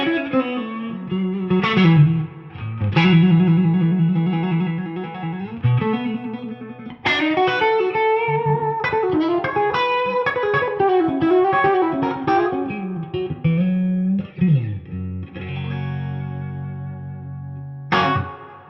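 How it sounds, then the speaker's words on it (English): A Fender Custom Shop Dale Wilson Masterbuilt '60 Stratocaster Heavy Relic HSS plays a loud, ringing melodic phrase through effects, its chords and single notes sustaining with echo and chorus shimmer before a final struck chord. "it's got all the kind of the classic chimey Strat tones that we love"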